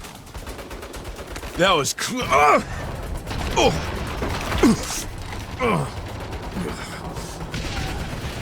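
Automatic turret gunfire in the video game Saints Row, loud rapid bursts cracking repeatedly amid mechanical whirs and creaks, with shouted voices over the combat.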